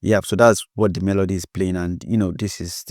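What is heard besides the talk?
No distinct noise like a dog, phone or traffic.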